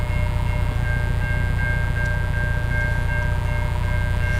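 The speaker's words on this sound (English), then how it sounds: "Got a train coming." A freight train passes nearby with a loud, steady rumble and a thin tonal ring on top, holding at an even level throughout with no voices.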